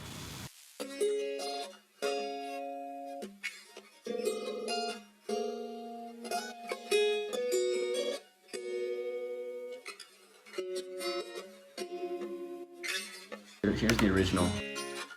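Bright, plinky guitar phrases pitched up an octave in a choppy lo-fi loop, thin and chiming, with a short burst of noisier sound at the end.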